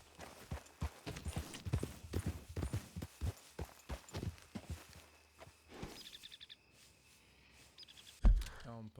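Horse hooves clip-clop in Red Dead Redemption 2, a run of distinct hoofbeats at a walking pace, fairly faint, with light bird chirps in the background and a short, louder thump at the end.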